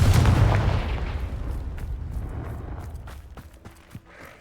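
A Confringo blast spell goes off in the Hogwarts Legacy game: a loud booming burst that rolls away over a couple of seconds, followed by faint scattered thuds and crackles.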